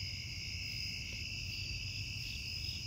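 Night insects chirping loudly outdoors on a snake-watching walk, a dense, continuous high chorus of crickets and other bugs over a low steady background rumble.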